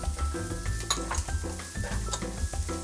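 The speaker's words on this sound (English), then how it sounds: "Now you're gonna add your garlic. Saute it for about 20 seconds." Garlic sautéing in oil in a pan, with a close, continuous sizzle broken by repeated clinks and scrapes of a utensil against the pan.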